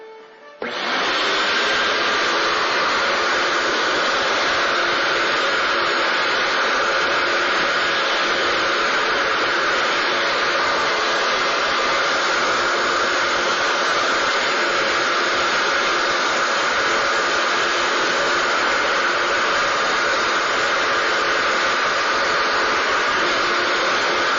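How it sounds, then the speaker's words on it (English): A wet/dry vacuum sucks up water from a scrubbed floor, starting abruptly and then roaring loudly and steadily with a hissing, airy whine for the whole stretch, alone without talk. "Now that we've scrubbed the floor, it's time to pick it up with the wet dry vac."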